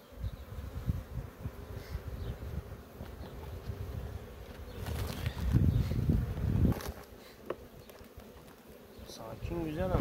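Steady, close buzzing of many calm honeybees swarming around a hive, with a low hum throughout and occasional louder passes near the listener.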